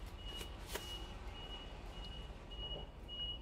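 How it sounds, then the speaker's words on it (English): A truck's reversing alarm beeps repeatedly at a steady rhythm, moderately distant and faint, with a few sharp clicks and bumps nearby and no talking. "Sorry about the beep beep beeping"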